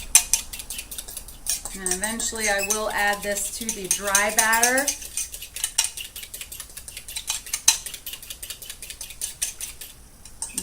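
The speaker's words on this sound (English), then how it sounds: "And then you're to whip this up together so they're well blended." A fork clinks and scrapes steadily against a bowl while whisking cake pop batter, in quick irregular taps, as someone speaks briefly over it.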